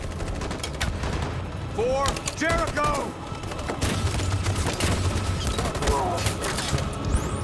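Sustained gunfire from a cover-fire exchange in the video game Detroit: Become Human, dense and steady throughout, with voices speaking briefly over the shooting.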